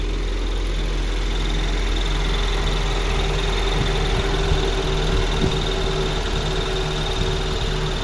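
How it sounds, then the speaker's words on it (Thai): A 2002 Honda Civic Dimension engine, manual transmission, idles steadily nearby, a constant low rumble with a faint mechanical hum and no voices. "ตอนนี้เครื่องยนต์ติดไปแล้วนะครับ เครื่องยนต์ทำงานไปแล้วนะครับ"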